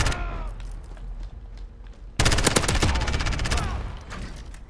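An MP7 submachine gun in Modern Warfare fires a sudden rapid burst of closely spaced shots, loud and near, following a quieter stretch of game ambience.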